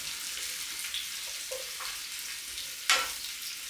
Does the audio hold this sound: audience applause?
no